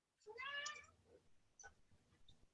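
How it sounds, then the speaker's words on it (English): A house cat meows once, a rising harmonic call near the start, followed by faint softer sounds in a quiet room. "Cat's meowing."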